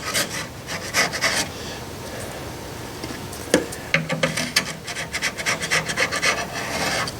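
A chisel scraping old foam edge off a Bose 901 speaker, making repeated close rasping strokes with a short pause midway.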